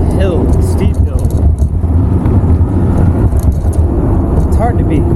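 ZOOZ Ultra Flex 1200 electric bike climbing a steep hill on throttle alone at about 27 mph, with a loud continuous rumble of motor and wind buffeting, rising whine tones and a voice talking over it.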